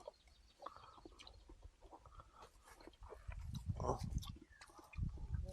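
A rooster on a rural Filipino farm crows amid rustling and nearby voices, its call partly blending with chewing and handling noises close to the mic.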